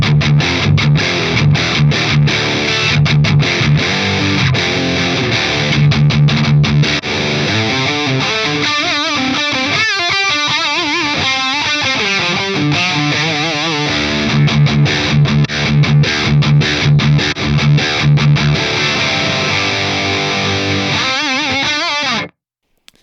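A distorted electric guitar solo plays through a Fractal AX8 processor with the fat switch engaged, loud and sustained with bent and fast-picked notes, then cuts off abruptly near the end.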